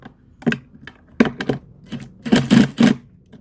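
A power driver tightens bolts on a Dometic 310 RV toilet in several short, sharp bursts, a louder cluster of buzzing pulses coming near the end.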